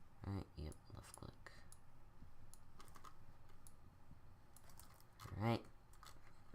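Computer keyboard keys pressed for a shortcut and mouse clicks during Blender editing, a few quick clustered clicks at the start and another burst near the end, close and quiet, with someone talking throughout.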